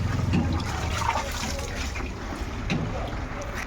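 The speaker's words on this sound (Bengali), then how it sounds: "ওই জন্য এতটা জোরে জল পড়ে" Water gushing forcefully from a pipe into jars at a shop, a steady loud rushing, splashing flow that runs throughout, fairly close, with no clear speech.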